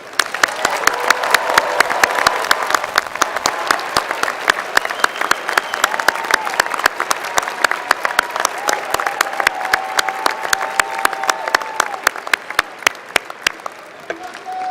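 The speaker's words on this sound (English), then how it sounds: "Please join me in applauding these graduates." A large audience at a university winter commencement ceremony applauds master's degree recipients, a long, dense, even wash of many hands clapping from across a hall, holding steady throughout with faint background murmur.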